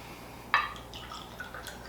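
Buffalo Trace bourbon is poured into an infinity bottle, starting with a sharp glassy clink and followed by soft trickling and drips, close and faint.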